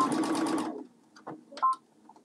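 Sewing machine stitching the pressed hem of a farmhouse apron made from Art Gallery fabric, a rapid buzzing run of stitches that stops after under a second, followed by a few faint clicks.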